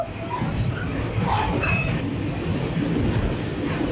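A Tazara train from Mbeya to Dar es Salaam, Tanzania, rumbles along the rails with a steady low roar and faint rhythmic clatter, heard from inside a carriage, with brief squeaks above.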